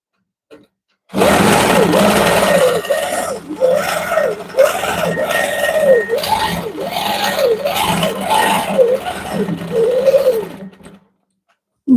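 A sewing machine stitches dense quilting lines through layered fabric, its motor whirring loudly in a steady run with a rhythmic rise and fall as the needle drives, running about ten seconds before stopping.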